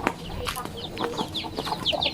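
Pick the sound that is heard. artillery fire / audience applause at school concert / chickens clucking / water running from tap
chickens clucking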